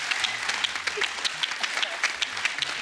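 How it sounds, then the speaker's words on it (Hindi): A studio audience at a Kapil Sharma comedy show applauds Paresh Rawal, with steady, crisp clapping from many hands that runs through the whole moment. "परेश रावल जी के लिए जोरदार ताली हो जाए"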